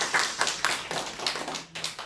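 A congregation in a church claps together, a short burst of quick, uneven handclaps close by with no voices over it.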